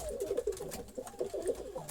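A male homing pigeon coos close by in a steady run of soft, rounded calls, repeated without pause and heard alone.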